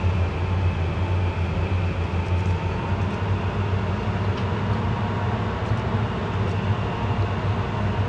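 A heavy diesel locomotive drones steadily under load, a deep continuous engine rumble with a mechanical hum and no talking.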